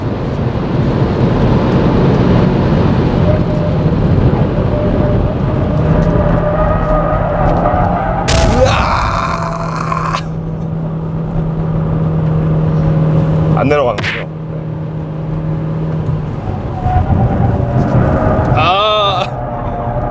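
A facelifted Hyundai Avante drives on a racing circuit, its engine droning steadily with heavy wind rush for the full stretch, while someone talks over it and a few sharp bumps or clunks break through.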